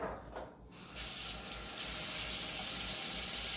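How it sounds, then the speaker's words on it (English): Water runs steadily from a tap as hands are washed beneath it, a continuous close hiss and splash that grows slightly louder after the first second. "we want to always wash our hands. So let's start with that."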